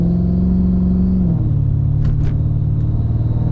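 A Mercedes CLK55 AMG with an M113K supercharged V8 and a stacked 80mm/180mm Weistec pulley rumbles loudly up close, its deep engine tone dropping in pitch partway through, with brief clatter above it.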